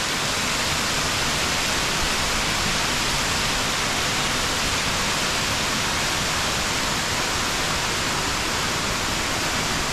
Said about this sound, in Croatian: Mali vodopad Ilomske rijeke, rijeka Ilomska.